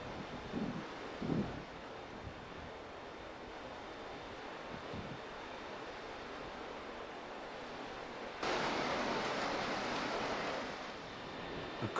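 Sea waves washing below coastal cliffs along a Fife shoreline path, a soft continuous surf wash with gusts of wind noise, louder for the last few seconds.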